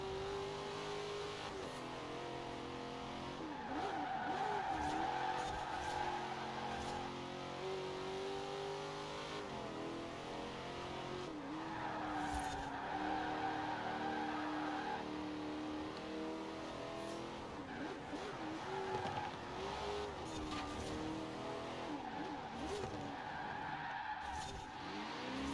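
A heavy car in Forza Horizon 4 drives through corners, its engine droning steadily while tires squeal and skid in repeated stretches, loud and continuous with no talking.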